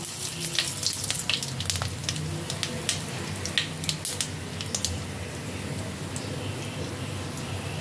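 Whole cumin, dried red chilies and bay leaves sizzle steadily in hot oil as tempering for paneer kali mirch, a close, even crackle with scattered sharp pops and spits throughout.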